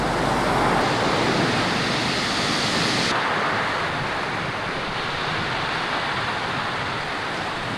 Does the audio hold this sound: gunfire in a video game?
no